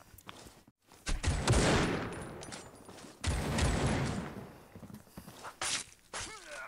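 Gunfire in the mobile shooter Critical Ops during a Sharp Shooter match, short bursts of rapid shots in two main volleys with clicks and movement noises between, close and fairly loud, no speech.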